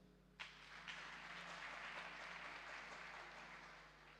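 A church congregation applauds Jesus during a French-language worship service, steady mid-distance clapping sustained for several seconds before slowly tapering off.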